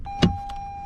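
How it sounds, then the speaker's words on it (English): One-touch automatic power window on a 2021 Toyota Venza Limited hybrid, heard from inside the car: a short motor whir with a soft thump as the glass stops, close and clear with no talk. "All of the windows in the Venza are automatic down and up, one touch."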